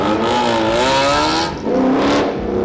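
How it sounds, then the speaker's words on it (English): Car engines rev loudly on a Shibuya street in Tokyo on a Saturday night, one rising roar dipping briefly before another vehicle revs up close. "All these cool cars"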